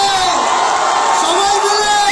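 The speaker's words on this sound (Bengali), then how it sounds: "জোরে হাততালি হবে" A live audience roars with cheers and whoops at a celebrity interview event, a loud, dense crowd wash throughout with voices mixed in.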